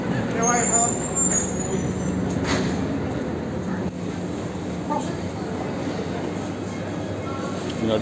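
A lorry pulls out of a building site where an old structure was demolished, onto a Melbourne city street with the traffic signals held; a steady broadband rumble of engines and traffic fills the scene, near and continuous.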